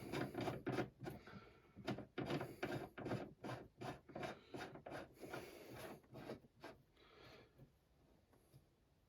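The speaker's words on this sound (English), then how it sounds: "take my die and I'm going to screw out the decapping pin. And then screw it back in" A decapping pin being screwed out of a reloading die for 7.62x39 cartridges, a close, steady run of rhythmic metallic rasping and ratcheting strokes that tapers off and grows quieter toward the end.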